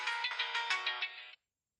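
A phone ringtone plays through Bluedio Bluetooth earphones, a bright, steady melodic tone with rhythmic pulses for over a second. It stops abruptly and leaves silence, with only a faint onset at the very end.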